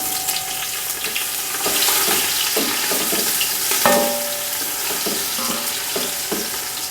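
Sliced onions sizzle steadily in hot oil with cumin, a loud close crackle broken by a few clinks of a utensil stirring the pan.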